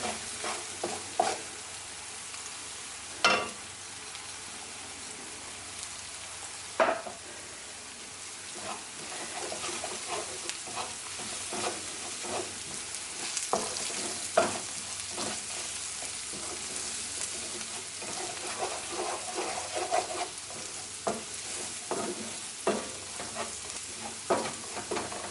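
Spices for a samosa filling sizzle steadily in a hot pan, with occasional stirring scrapes and clinks over a continuous close frying hiss and no talk.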